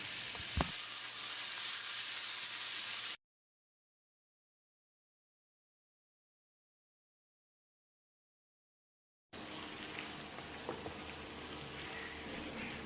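Steady sizzling of tomatoes frying and being stirred in a pan for a chicken curry, with a break of silence midway before the crackling resumes.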